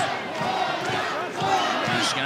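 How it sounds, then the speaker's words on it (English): A boxing arena crowd at a regional title fight chants and roars in a continuous, dense wash of voices, with ringside commentary faint beneath. "The crowd chanting Hornet."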